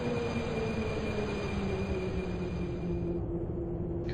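Subway train in the WAPP Subway Simulator game on the Dejvicka line, a steady rumbling run with rail noise and a high whine, constant and close throughout.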